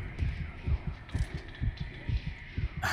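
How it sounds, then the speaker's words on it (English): Heartbeat in the video game Dead Space Remake: a steady, deep double-thump pulse repeating roughly every half second, low and muffled under a faint ambient hum. "I can hear his damn heartbeat."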